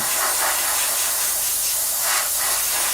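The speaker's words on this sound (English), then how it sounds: "So we're just going to blow in these areas here." Airbrush hissing steadily as it sprays paint onto a 1/32 scale Trumpeter F-14D Tomcat model kit, close and continuous with slight pulsing as the spray moves over the surface, with no talking.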